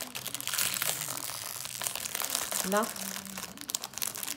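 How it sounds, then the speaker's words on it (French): Tape is peeled off a wrapped gift, making close crinkling and tearing rustles in short bursts while voices talk nearby. "Maman, elle enlève le scotch."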